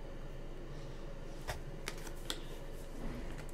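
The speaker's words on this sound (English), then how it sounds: "going to shuffle this crystal grid deck that I have" A brand-new crystal grid card deck is shuffled quietly at close range, with a few soft riffling snaps and taps over faint background hiss.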